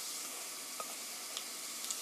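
Red pepper powder and green onions stir-fry in oil in a pan for a zucchini beef stew. The sizzle is quiet and steady, with a few faint ticks and scrapes from stirring, and no voices.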